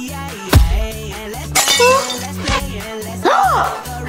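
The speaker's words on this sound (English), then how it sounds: "Who broke my vase?" A glass vase shatters with sharp crashing bursts, mixed among cartoonish sound effects, rhythmic music and animated voices.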